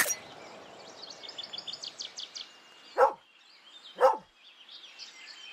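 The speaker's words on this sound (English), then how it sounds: "The dog's bark, unsurprisingly, offers no insight as to where its owner may be." A dog in The Oregon Trail video game gives two distinct barks about a second apart, set against quieter chirping and twittering game sounds.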